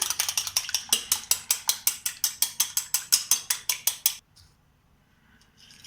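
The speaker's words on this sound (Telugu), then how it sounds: "2 ఎగ్స్ని బీట్ చేసుకుందాం కదా." Two eggs whisked briskly in a bowl, a fast run of about twenty sharp rhythmic clicks of the whisk against the bowl, close and clear, stopping abruptly near the end and leaving near silence.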